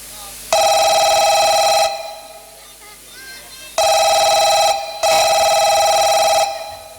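A phone ringtone sounds in loud bursts, three rings with short gaps between them, a bright electronic tone that starts and stops abruptly.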